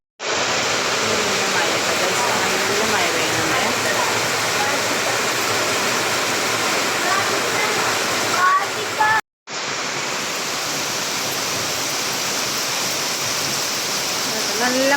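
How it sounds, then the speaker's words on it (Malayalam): Heavy rain pours down in a dense, unbroken roar that stays loud and steady throughout, broken only by a momentary cut partway through, with a voice barely surfacing under the downpour. "മഴയുണ്ട് കേട്ടോ"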